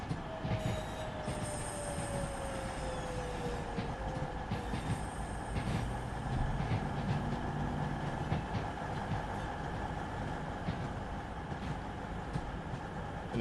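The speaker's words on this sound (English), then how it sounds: "As we see a Pendolino and a 350, and I believe a Voyager to the right." Passing trains on the West Coast Main Line in Train Sim World 6, including a Pendolino, a Class 350 and a Voyager, rumble steadily with rail clatter and high wheel squeal, loud and continuous throughout.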